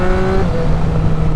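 A 2024 Triumph Street Triple RS motorcycle runs at a loud, steady engine drone, its pitch shifting slightly partway through, heard close up with wind noise.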